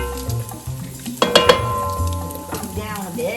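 Rendered bacon sizzles in a pan with a steady close crackle, broken by a few sharp clinks and scrapes of stirring near the middle.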